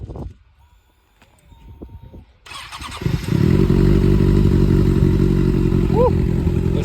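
A superbike motorcycle engine cranks and fires up after a quiet stretch, then settles into a loud, steady rumbling idle close by, with a brief chirp near the end.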